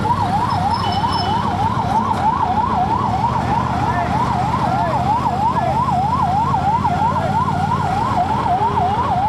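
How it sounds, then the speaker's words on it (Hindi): An ambulance siren wails in a fast rising-and-falling pattern behind traffic at Dewas Naka in Indore, moderately loud over a steady rumble of engines and road noise, heard from a Royal Enfield Super Meteor 650 motorcycle. "पीछे एम्बुलेंस आ रही है, हमें उसको रास्ता देना है"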